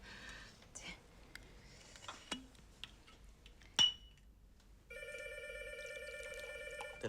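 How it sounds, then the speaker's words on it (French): A telephone bell rings steadily in a continuous electronic trill that starts partway through, after scattered clinks of glass and dishes in a quiet room. "Téléphone?"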